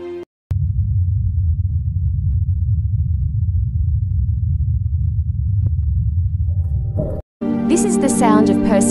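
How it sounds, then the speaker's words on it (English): The Ingenuity helicopter flying on Mars, recorded from the rover, gives a steady low throbbing drone of rotor hum lasting several seconds. It is muffled and continuous, and a brief faint tone follows before it cuts to louder, unrelated sound. "This is the recording of Ingenuity helicopter in flight."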